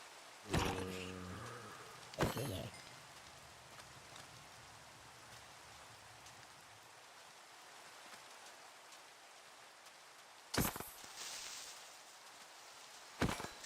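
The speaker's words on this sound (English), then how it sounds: "It started raining." Rain falls in Minecraft as a soft, even patter running under the whole stretch, broken by a few sharp loud game sound effects.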